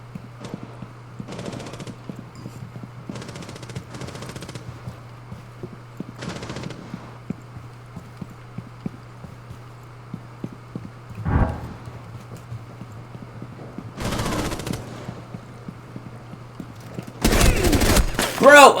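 Video game gunfire in bursts, with several short broadband volleys spread across the stretch and a denser, louder burst near the end, set against a steady low hum and faint voices.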